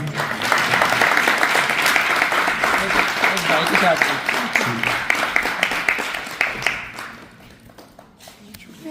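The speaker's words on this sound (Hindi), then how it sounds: "नसर साहब के लिए बहुत तालियां दी।" An audience at an evening gathering honouring elders breaks into sustained applause, bright and dense for most of the stretch, with voices mixed in, then dropping away abruptly toward the end.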